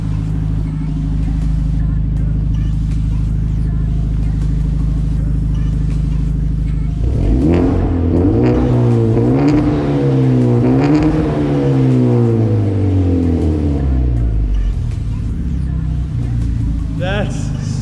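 A Hyundai Genesis Coupe 2.0t with an aftermarket MXP exhaust idles with a deep rumble, then revs up loudly and throatily several times before settling back to idle, close by.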